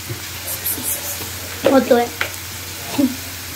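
Onion frying in a pan as stirring scrapes through it, a few short bursts of clatter and sizzle over a low steady hiss, close and fairly quiet, with no voices.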